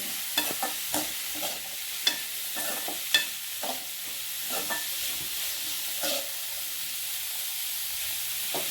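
Vegetables including kohlrabi and red radish sizzle and hiss in a hot pan while a spoon stirs and scrapes, with a few sharp clinks and bursts of frying.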